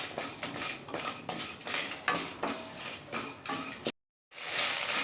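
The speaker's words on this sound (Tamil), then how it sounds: "சேர்த்துட்டு இதை நல்லா வாசம் வர்றது வரைக்கும் நல்லா வறுத்துக்கோங்க" Shallots and spices roasting in a pan for country chicken salna, with repeated metal scraping and stirring clatter close by, steady throughout, broken by a brief silent gap near the end.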